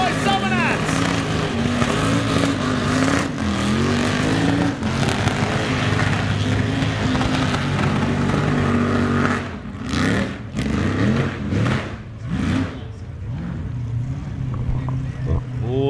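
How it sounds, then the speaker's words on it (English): A car doing a burnout at Summernats 36 in 2024, during the Burnout Masters eliminations, roars loud and sustained with the engine held near the limier, surging and dipping in bursts toward the end while a commentator talks over it. "Who wants to see Phil finish these tyres off?"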